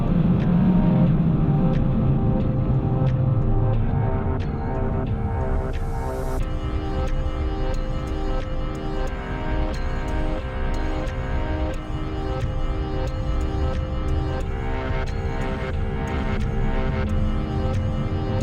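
Cars racing on a winter highway, heard through a roof-mounted camera: a continuous loud roar of engine and wind with a steady droning tone, plus scattered sharp clicks and ticks.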